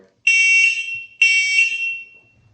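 Two loud blasts from a battery-powered clip-on e-bike handlebar horn, each a shrill harmonic tone held about a second, separated by a short gap.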